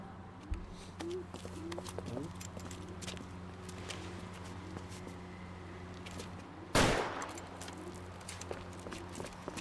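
One sharp gunshot rings out in the video game L.A. Noire, cutting through a steady low ambient hum and scattered background clatter.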